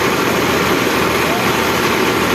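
An Al Ghazi 65hp tractor drives a 4.6-foot thresher, making a loud, constant, dense roar with no break, close by, and a voice is speaking underneath.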